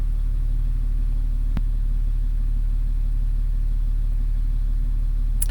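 A 2011 BMW X5 engine idles close by with a steady, loud low rumble and even pulsing throughout, interrupted by a single brief click partway through.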